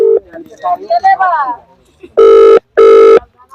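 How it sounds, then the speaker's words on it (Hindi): An outgoing phone call rings through as two steady, loud ringback tone bursts, each under half a second, after a stretch of talking. "रिंग जा रहा है प्रधान जी को।"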